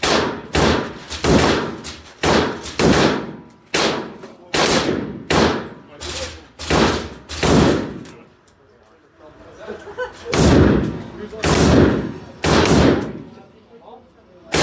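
An M249 SAW machine gun fires at a shooting range, loud close bursts of automatic fire, about a dozen short rhythmic volleys separated by brief pauses, with a speaking voice in the gaps.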